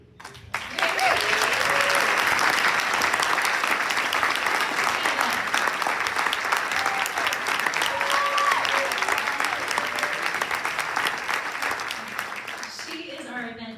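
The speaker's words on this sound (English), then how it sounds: "we're gonna wrap up the evening with a huge round of applause for Kathleen Casey" A big round of applause fills a full event evening honoring the event chair, sustained dense clapping with cheers for over ten seconds before fading, a few voices emerging near the end.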